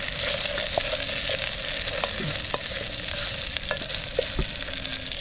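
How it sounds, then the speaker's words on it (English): Food frying in a pan outdoors on Pagham Beach, a constant loud sizzle with scattered soft scrapes and clinks from stirring, no voices. "I'm going to fry this off in 2 batches"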